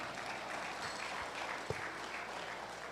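Steady applause from an audience at the Most Outstanding Pimpeño Awards 2025 ceremony, a continuous mid-level wash of clapping with one sharp louder clap near the end.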